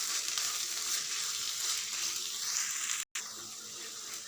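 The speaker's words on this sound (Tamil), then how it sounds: "இது நல்லா கலந்து விட்டுருங்க." Vegetable curry stuffing sizzles steadily in a frying pan, a continuous close hiss with a brief dropout near the end, no voices.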